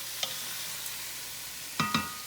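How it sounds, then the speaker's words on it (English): Spoon stirring white wine in a hot cooking pan, a soft sizzle under a couple of faint clinks and two quick scraping knocks near the end, close and quiet. "Well, I'll stir this."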